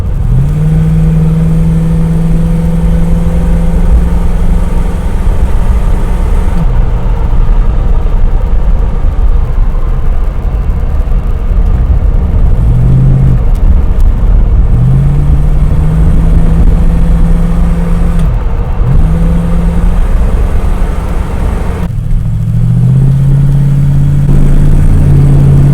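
A Jensen car's engine revs and drives for over twenty seconds, a loud, close mid-pitched drone rising repeatedly through gears with short dips between pulls and a constant rumble of road noise beneath.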